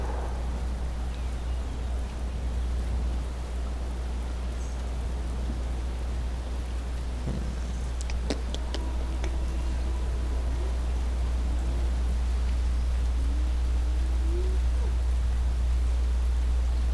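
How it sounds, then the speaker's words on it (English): Steady rain falls in a video game, heard as a continuous, even hiss, with low hum underneath and a few faint clicks and tones partway through. "Oh, now it's raining."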